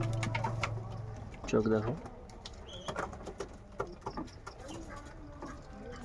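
A Kaldom pigeon gives a short, close, throaty cooing burst while someone talks over it, with quieter rustling and a few faint calls around it.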